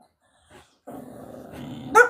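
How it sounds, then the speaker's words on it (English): Close by, a dog growls low and rumbling for about a second, and the growl ends in a sharp, high bark or yip. "Princess is the oldest dog I have"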